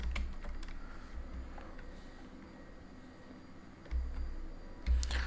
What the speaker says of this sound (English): I would type in something like this